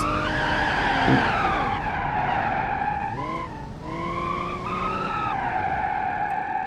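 A car in the BeamNG.drive driving game runs with sustained tire skidding and engine tones that rise and fall through gear changes, loud and continuous.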